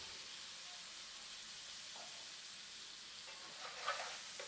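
Chicken, onions and peppers simmering in single cream in a pan give a steady, soft sizzle and bubbling hiss, fairly quiet and unbroken, with a slight stir near the end.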